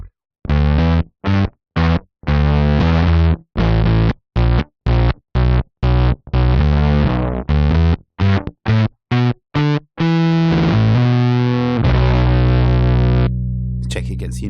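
Bass played through a Jext Telez Dizzy Tone fuzz pedal with a sputtering, battery-starved tone, choppy gated staccato notes in quick succession, then a few longer notes decaying into a held tail.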